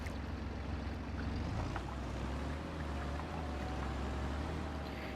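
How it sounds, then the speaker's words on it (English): A small tractor in Farming Simulator 25 labours up hills while spreading fertilizer, giving a steady, low engine drone with a broad rushing hiss that stays continuous and even throughout. "And this little tractor does not like these hills"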